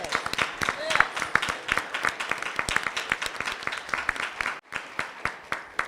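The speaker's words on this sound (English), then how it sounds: "So let's give our instructors a round of applause." Applause from a board meeting audience honoring Air Force Junior ROTC instructors, many sharp hand claps in a steady dense patter that briefly drops near the end, with some voices mixed in.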